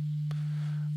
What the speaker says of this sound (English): there's the sine wave